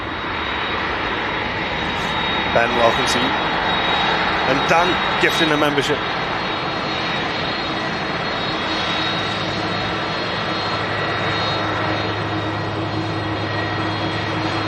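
Aer Lingus Airbus A330-300 jet engines drone steadily in the background at Manchester Airport while a person talks over them, the low roar holding constant throughout.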